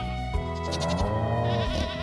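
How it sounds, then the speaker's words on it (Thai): Stardew Valley farm goat giving a clear, loud, wavering bleat that lasts a couple of seconds over soft game music. "นี่ก็ เป็นพวกวัวกับพวกแพะเนาะ"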